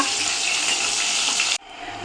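Close, steady sizzling of eggplant frying in hot oil, a bright crackling hiss that cuts off abruptly near the end.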